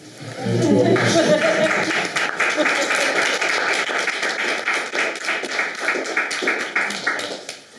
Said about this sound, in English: So don't clap quite yet, he's not in.